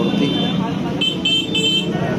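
Busy street traffic beside the Malabon fishport, with a few short car horn toots rising over steady road noise while people talk nearby.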